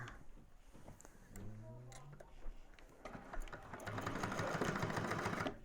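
A sewing machine top stitching through the gusset piece of a convertible bag, short bursts of rapid mechanical stitching that build into a longer continuous run, close and moderately quiet, with a few soft handling sounds before.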